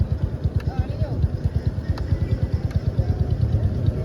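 A Honda Supra X 125 FI motorcycle engine idling and lightly revved: a close, rapid, even low putter of exhaust pulses throughout, with faint voices in the background.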